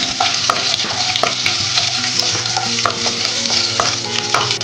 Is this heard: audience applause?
no